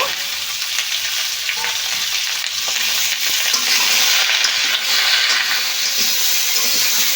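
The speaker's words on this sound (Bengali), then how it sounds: "পেঁপে দেব আর দেব বটবটি এই সবজিগুলো একসঙ্গে আমি কষে নেব" Papaya, banana and other vegetables for Bengali shukto sautéing together in a pan, giving a loud, steady sizzle and hiss with faint stirring scrapes underneath, close and continuous.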